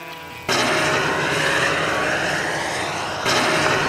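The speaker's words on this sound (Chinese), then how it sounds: "直升机快速地升到了半空，" An MD500 model helicopter flies nearby, its small engine and rotor making a loud, continuous whining drone that holds steady and swells slightly near the end.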